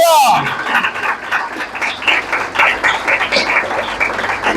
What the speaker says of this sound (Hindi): यीशु मसीह के खून के लिए भरपूर तालियां बजाएं